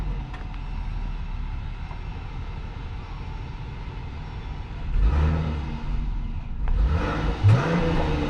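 A V6 truck engine idles with a low rumble, then revs twice in quick bursts near the end, each rev swelling loudly before settling back.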